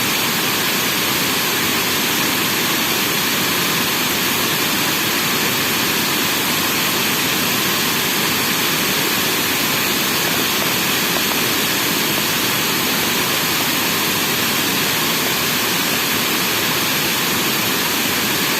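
Steady, dense rushing water, like a strong stream or falls, fills the whole time at constant loudness with no pauses.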